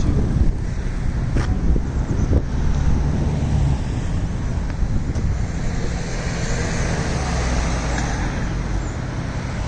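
Steady road traffic on Berry Lane in Longridge, Lancashire, passing along a shopping street, a continuous broadband rumble of cars with wind buffeting the microphone and no talk.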